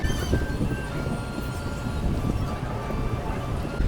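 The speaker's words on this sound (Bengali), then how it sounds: "একদম লালগোলাগামী ট্রেন চলে আসছে এদিকে" A Lalgola-bound train pulling in at a station platform at dusk, producing a steady low rumble with faint tonal whines, heard close and continuous with crowd background.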